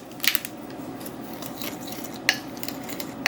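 Salt and black pepper seasoning being stirred together in a small dish, a few sharp clinks of utensil on dish at the start and again later over a soft steady rustle.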